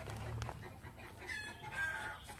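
A chicken clucks faintly and intermittently outdoors in a short stretch of low ambient noise, with no talking.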